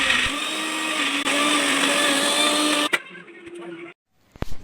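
A kitchen mixie grinds chillies, garlic, chana dal, curry leaves and salt coarsely, giving a loud steady whirring drone for about three seconds before it stops abruptly, with a short quieter stretch of running and then silence.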